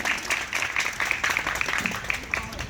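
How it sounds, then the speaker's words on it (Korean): Scattered audience clapping at a Korean smart rebar-construction demonstration, thin and uneven with individual claps standing out, mixed with some background voices. "윤현석 팀장 그리고 엔지니어분들께 여러분 다시 한번 박수를 보내주시기 바랍니다"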